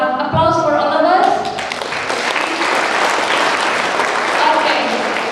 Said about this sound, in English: So applause for all of us.